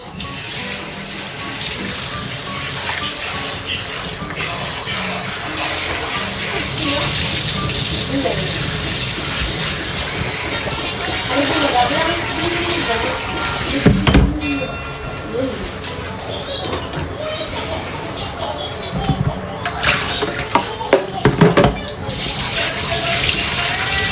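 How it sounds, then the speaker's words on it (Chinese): Tap water runs steadily into a sink while pig liver is rinsed under it, a continuous splashing rush with a few brief clunks, and a person speaks over it at times. "然后把这个猪肝先洗一下"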